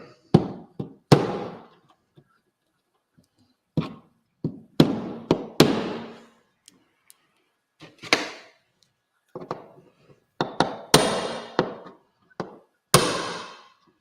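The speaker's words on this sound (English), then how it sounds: "noise as I hammer in some pins." Sharp hammer blows driving in model railway track pins land in irregular bursts, some single knocks and some quick clusters, close by with quiet gaps between them.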